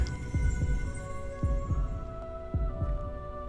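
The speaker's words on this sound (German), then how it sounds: "wir spielen halt jetzt einfach hier mit dem Herzschlag weiter" Low-health heartbeat in the Hogwarts Legacy video game, a deep thumping double pulse repeating steadily about once per second, layered over a sustained musical hum.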